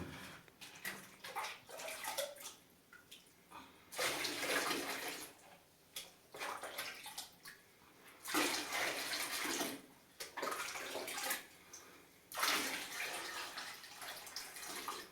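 Warm water is poured from a bucket into flour for bazlama bread dough, coming in several close splashing, gushing pours with short pauses between them.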